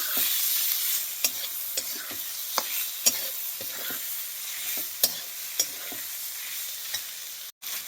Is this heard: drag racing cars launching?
no